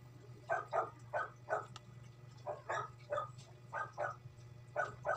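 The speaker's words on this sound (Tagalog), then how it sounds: "Aso ng kapitbahay." A neighbour's dog barks in a steady run of about a dozen sharp, evenly spaced barks at moderate distance, heard alone over a low constant indoor hum.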